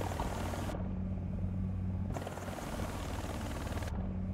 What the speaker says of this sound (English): Oh, it's a drone.